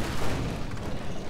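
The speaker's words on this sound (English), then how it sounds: "Why was there a random explosion?" A dense, rumbling explosion in a Garry's Mod horror map game, a continuous broadband roar filling the short moment without any voices.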